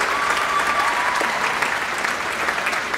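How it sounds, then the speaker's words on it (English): A circus audience applauds steadily, a dense wash of clapping that holds at even loudness throughout. "How about a round of applause for our impresarios?"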